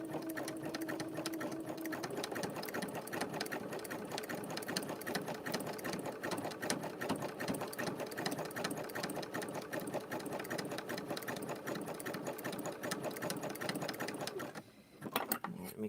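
A sewing machine stitches a rope bowl in a steady, fast mechanical whir with a rhythmic needle clatter. It runs up close for most of the time, then stops briefly near the end.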